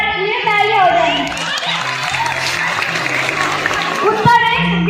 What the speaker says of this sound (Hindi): 12th क्लास की सभी दीदियों के लिए तालियां हो जाएंगी